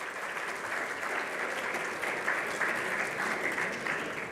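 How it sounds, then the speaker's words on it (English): Steady, even round of applause from a panel discussion audience, a dense wash of many hands clapping continuously at moderate volume from start to finish. "just a round of applause"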